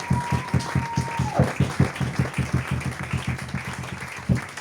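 Congregation in a church clapping in a quick, steady rhythm, a dense run of close handclaps with a brief held tone at the start.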